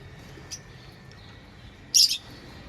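A pair of yellow Fischer's lovebirds kept in a breeding pot gives a faint short chirp early on, then a louder, sharper chirp burst near the end over quiet background.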